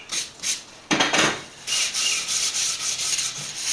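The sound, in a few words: sanding wood picture frame edges with sandpaper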